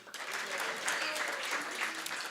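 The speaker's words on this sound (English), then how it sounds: "And please give one more round of applause for Shama Bhakti Mataji." An audience claps steadily after a community play at a Sunday feast. The applause is a dense, continuous patter of many hands that holds an even loudness throughout, with no voices on top.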